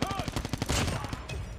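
Rapid automatic gunfire from a laser-sight gun with a Cordite build in Call of Duty Mobile, a loud continuous burst of closely spaced shots that trails off toward the end.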